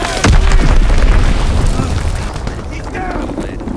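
An enemy bomb blows up in Call of Duty WWII: a loud, close boom strikes early, then a long rumbling decay under ongoing battle noise and game voices.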